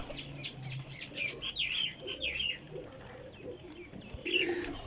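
Pathiya flying pigeons coo in soft, repeated low bursts close by, with scattered higher chirps and clucks and no voices.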